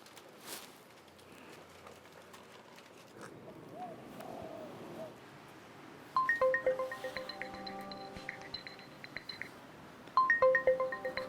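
A phone ringtone chirps in repeated bursts of bright electronic tones after a quiet stretch, growing louder near the end as someone places a call.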